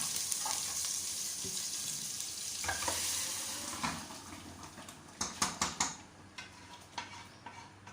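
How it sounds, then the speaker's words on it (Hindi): Cooked chana dal goes into a sizzling spiced tempering of chillies, ginger and coriander. A soft hiss comes first, then a run of clear spoon-on-pan clinks and scrapes as it is stirred up close. "अब हम इसमें डालेंगे अपनी जो बनाई हुई दाल"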